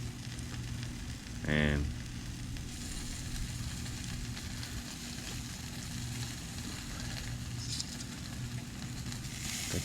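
Six small Polish sausages sizzle steadily over a hot Sterno charcoal grill, a constant loud crackling hiss throughout. A brief voice cuts in early on.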